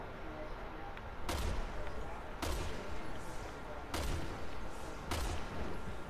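Gunshots in Resident Evil 6, heard as five evenly spaced, sharp, booming reports with short echoing tails over a steady background din.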